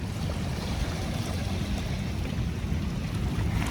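Sea waves wash onto the shore at Manila Bay's Dolomite Beach, a steady broadband rush and churn with low rumbling surge and some wind noise, continuous and fairly close throughout with no talking.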